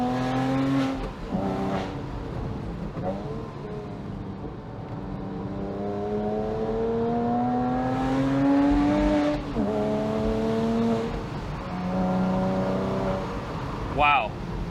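A 987 Porsche Boxster S mid-engine drones and rises and falls through the gears while driving on a winding road, heard steadily from inside the cabin with continuous wind and road roar.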